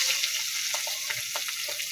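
Fish belly pieces frying in hot oil, giving a steady bright sizzle with small crackling pops running through it.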